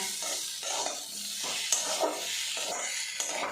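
Potatoes and moong dal for a vegetarian chorchori sizzle in a pan, a continuous close frying hiss with regular stirring scrapes every half second or so.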